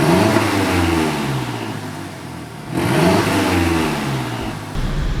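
A modded Mazdaspeed6 engine revs and accelerates through gears, with rising whirring pitch sweeps, a brief drop between shifts, then pulling hard again, loud and close from inside the car.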